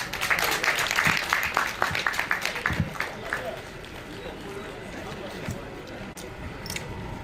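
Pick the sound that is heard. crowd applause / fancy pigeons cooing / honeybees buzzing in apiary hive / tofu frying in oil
crowd applause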